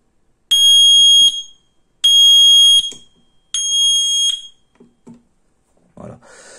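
A Digoo DG-SA01 433MHz smoke detector sounds three loud, shrill electronic beeps, each about a second long with short gaps between them, followed by faint handling noises.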